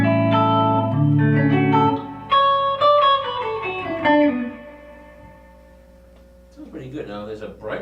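Electric guitar fitted with Seymour Duncan pickups, played clean with sustained chords and a descending run of single notes, ringing out before a softer strummed passage returns near the end.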